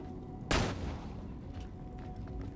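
Gunfire in the shooter game Borderlands The Pre-Sequel: one sharp burst of shots stands out over a steady, busy game soundscape, fairly quiet overall.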